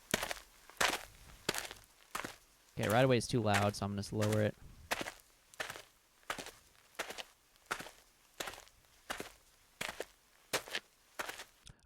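A hero character's footsteps, laid down as a sound effect in a sound-design edit, fall as a steady series of sharp, evenly paced steps. Someone talks briefly over them partway through.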